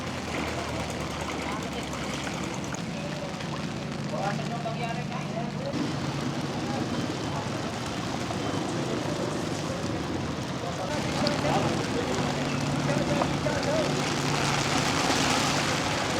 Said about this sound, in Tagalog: tuloy pa rin yung ulan dito